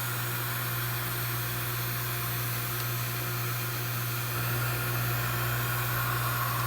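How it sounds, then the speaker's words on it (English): A vacuum pump pulling a vacuum on an air conditioner unit runs as a steady, even motor drone with a constant low hum and a broad hiss, holding unchanged throughout. "we're mainly just waiting for it to finish pulling a vacuum"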